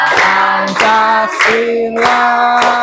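A class sings a patriotic song together while clapping hands in an even, regular beat under the loud, close voices.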